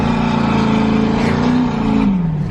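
A turbocharged truck running 15 pounds of boost accelerates hard in a loud, close engine roar that climbs in pitch and then drops away as it passes.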